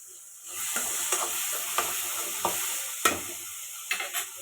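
Ingredients for a fish curry sautéing in a pan, a steady close sizzle and hiss with a few soft clinks and scrapes of stirring rising above it, and no voices.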